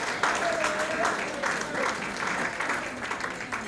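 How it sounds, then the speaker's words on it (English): A room of people at a hockey banquet claps steadily for themselves, a dense, sustained round of applause lasting the whole moment, with a few voices faintly audible under the clapping. "I'd like to just have everyone give themselves a round of applause for having such a great thing"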